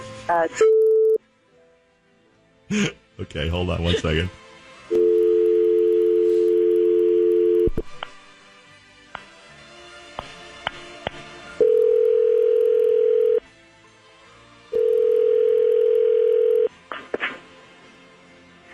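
Telephone call being placed: DTMF keypad tones and steady dial tone, then three long ringback tones with gaps, under brief speech at the start and a faint voice between rings.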